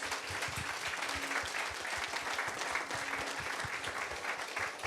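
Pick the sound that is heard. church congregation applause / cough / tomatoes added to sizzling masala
church congregation applause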